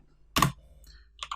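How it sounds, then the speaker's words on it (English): A few keys are struck on a Mac computer keyboard while a terminal command is entered, brief close clicks with a pause between them, in an otherwise quiet room. "All we need to do is type in Flutter"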